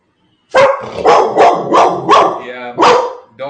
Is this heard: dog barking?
yes